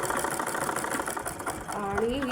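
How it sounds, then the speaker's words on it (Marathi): A sewing machine runs steadily while stitching a double seam, a close, continuous mechanical whirr, and someone talks over it. "हे बघा आता मी डबल शिलाई मारली"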